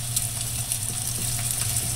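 Bacon strips laid into a hot pan, a steady close hiss of frying fat with faint crackles and a few soft handling knocks, heard on its own without talk.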